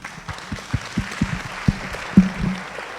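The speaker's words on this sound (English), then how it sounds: "So tafadhali join me in giving them a clap." Conference audience at a rights and freedom event gives a panel scattered, fairly sparse clapping, individual claps distinct and moderately close.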